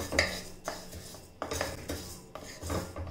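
Fenugreek seeds are dry roasted in a pan for laddoos, giving quiet scraping and rattling strokes in a slow repeating rhythm of about four passes, close and soft with no talking.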